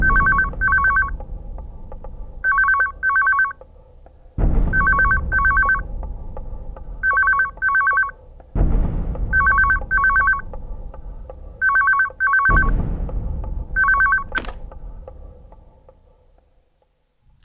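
A loud telephone bell rings repeatedly in quick double bursts, close by, with dull thuds between some groups of rings and no voices.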